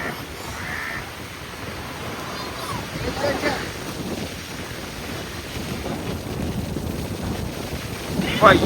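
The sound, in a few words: strong wind blowing into the microphone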